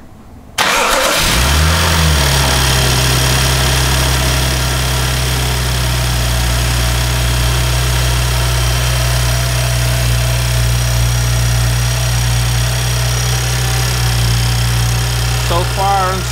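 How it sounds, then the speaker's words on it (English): A BMW 335i with an N54/N55 engine, after an oil filter housing leak repair, cranks briefly and fires up, then settles into a loud, steady idle close by for the rest of the clip. "go ahead and start the car"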